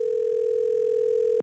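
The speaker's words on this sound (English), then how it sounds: "all right, we're ringing." A steady electronic telephone tone sounds in the trivia game You Don't Know Jack, one unbroken pitched note held for over a second before cutting off abruptly, clear and alone.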